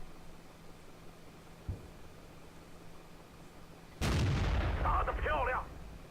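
Tank cannon fire in World of Tanks, with shots aimed at an enemy VK's tracks: a faint distant thump, then a loud, close sharp blast whose rumble rings on for about a second and a half.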